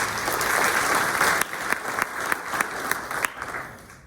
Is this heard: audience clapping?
yes